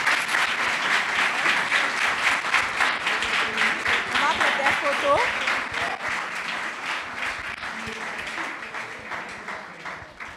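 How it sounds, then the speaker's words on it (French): A room full of young people at a public-speaking event breaks into loud, steady applause that fills the whole stretch, with some voices mixed in beneath the clapping. "On applaudit la persévérance de Mitsu."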